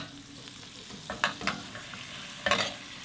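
Steak in a pan with melted butter and thyme gives a low steady sizzle, broken by a few sharp scraping clinks from a spoon basting the butter over the meat; no one speaks.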